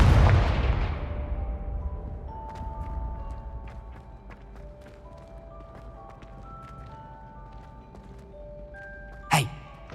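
A Confringo fire spell in Hogwarts Legacy lands as a heavy, loud explosive boom that rolls off into a fading rumble with scattered game tones, followed much later by one sharp crack.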